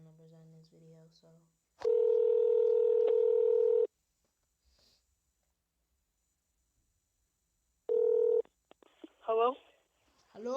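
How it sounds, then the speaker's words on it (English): A telephone number is keyed in, long steady touch-tone beeps sounding in two spaced bursts between silent gaps, with a voice talking briefly before and after. "Maybe I should try calling Deshuan."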